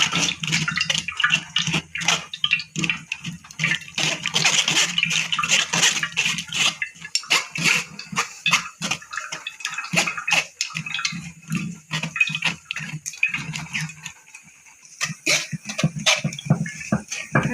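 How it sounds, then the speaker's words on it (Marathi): Soaked tamarind is pressed and strained through a metal sieve in a kitchen, giving steady wet squelching and splashing with irregular bursts throughout, loud and close. "त्याच्यावरती आपण ही चिंच टाकून गाळून घ्यायचे आपल्याला हे चांगलं।"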